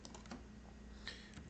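Soft typing on a computer keyboard, a handful of faint, quick key taps over a steady low hum.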